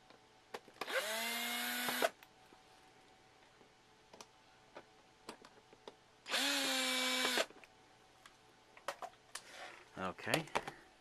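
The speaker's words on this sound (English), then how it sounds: "while I undo the 4 screws for this" A power screwdriver runs in two separate bursts of about a second each while unscrewing a portable Nintendo console, a loud whining buzz, with small clicks of parts and screws being handled in between and afterward.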